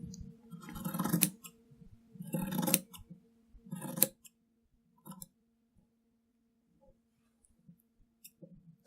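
Scissors cut the corners off embroidery fabric in three close, crisp bursts of snipping, followed by a few faint handling clicks in a quiet room.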